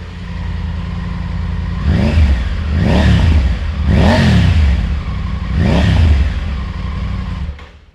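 Triumph Tiger 900 GT motorcycle fitted with an aftermarket exhaust, revved four times in a row over a steady idle; each loud, close blip climbs and falls back before the engine cuts off.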